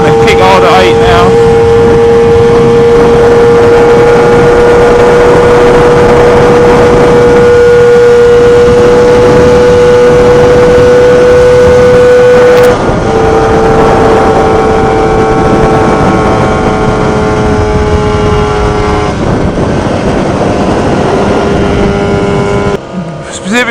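A Lambretta Targa Twin 275cc piston-ported scooter engine runs under load on an open road with a loud, continuous buzzing drone. Its pitch climbs and eases with shifts under rushing wind.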